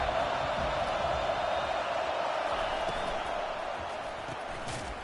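A big stadium crowd in the College Football 25 video game keeps up a continuous roaring wash of noise that fades slightly toward the end.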